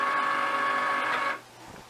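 A Cricut cutting machine unloads its cutting mat with a steady mechanical motor whir for about a second, then stops abruptly into near quiet.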